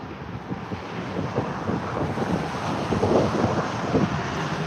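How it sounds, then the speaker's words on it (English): Steady wind roars and buffets the microphone, with a low rumbling gust that swells slightly toward the end; no voices. "that wind is definitely starting to pick up a little bit"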